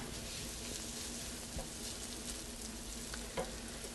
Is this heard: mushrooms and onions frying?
yes